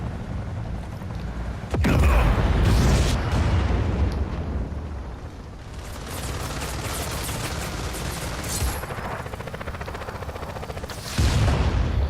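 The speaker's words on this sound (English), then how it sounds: "Oh no, more cannons." Repeated cannon blasts in the open-world action game Just Cause 4, loud booming explosions arriving in bursts with rumbling aftermath and scattered gunfire between them.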